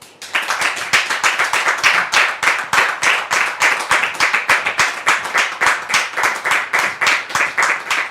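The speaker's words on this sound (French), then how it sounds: "de recevoir ici Séraphin sous vos applaudissements" Audience in a French-speaking evangelical church mission clapping steadily, a close, dense burst of hands beating in quick near-regular rhythm that carries on loudly for several seconds.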